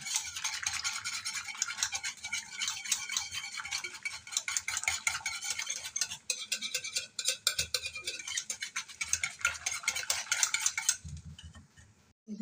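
A spoon stirs a Burmese dhopu mixture with red chili powder in a pot, giving quick continuous scraping and clinking that run for about eleven seconds and then stop, close up with no speech.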